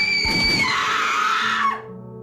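A loud, sustained scream in an audio drama, set amid clanging and gunshots, holds steady for nearly two seconds before cutting off abruptly, leaving a low hum. No one speaks.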